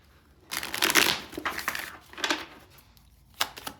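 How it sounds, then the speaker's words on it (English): Tarot cards being shuffled by hand, several quick riffling bursts close up with brief pauses between them, crisp papery flutters and soft taps, no talking. "I do want to shuffle a couple of times now that we have some stuff on the board."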